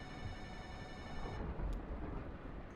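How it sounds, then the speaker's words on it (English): A telephone rings in the video game Kentucky Route Zero, a thin electronic ring sounding steadily for the first half before cutting off, leaving a quiet low room hum. "Oh, but we have a phone call."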